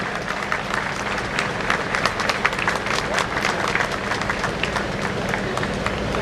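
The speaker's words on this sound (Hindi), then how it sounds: "जोरदार तालियों के साथ इस पल का अभिवादन करें।" Applause from a crowd at a locomotive flag-off ceremony, dense and steady clapping throughout with scattered voices mixed in, fairly close and sustained.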